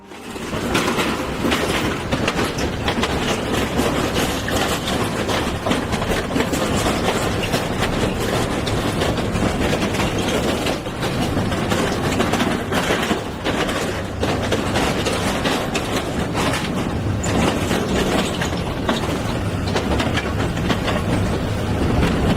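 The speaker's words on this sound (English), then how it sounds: "I'm going to wait for the train to go by." A train rumbles steadily past at close range, with rhythmic clickety-clack of wheels over rail joints running the whole time without a break.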